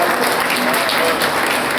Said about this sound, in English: everybody give Veronica a big round of applause